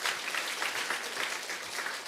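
A church congregation claps together for a baby, a steady wash of applause heard from a slight distance and fairly soft, with no voices over it.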